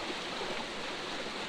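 Floodwater rushes steadily past an eroding, rubble-strewn riverbank in a continuous broadband wash, close and moderately loud, with no voices.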